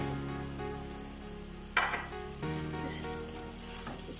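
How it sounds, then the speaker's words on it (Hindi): Chopped bell peppers sizzle as they go into a pan of fried minced meat (keema), with a burst of crackling partway through and steady frying after it, up close and without talk. "तो अब इसके अंदर मैं अपनी शिमला मिर्च ऐड करती हूँ।"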